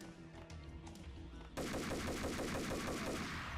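Gunfire in the Max Payne video game opens as rapid shots over a busy game soundtrack, then becomes a loud, dense burst of continuous automatic fire.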